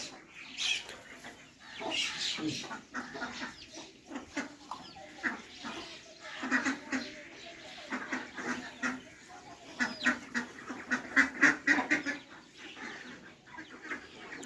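Roosters and hens in a village coop cluck and call repeatedly at close range, a busy continuous chorus of overlapping fowl voices.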